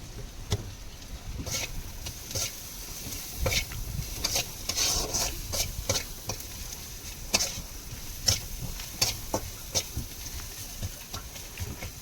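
Spice masala with chili powder being stir-fried in a pan: intermittent scraping strokes of a spatula over a soft, low sizzle, with a steady background hum throughout.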